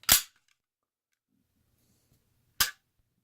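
A SIG P320 pistol's trigger resetting after the slide is locked back, heard as two sharp, loud mechanical pops about two and a half seconds apart, with faint handling noise between them.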